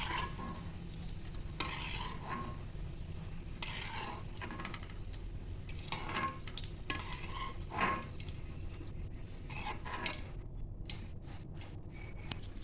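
Green chillies fry in a little oil in a pan for poha chivda, giving a faint, low sizzle broken by occasional scraping and clinking of a stirring spoon.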